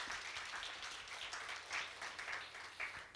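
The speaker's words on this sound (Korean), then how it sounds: "박수 한번 치셔야 될 것 같아요." Lecture audience applauding at a talk on Admiral Yi Sun-sin's leadership, a steady wash of hand claps from a modest crowd, fairly quiet and even throughout.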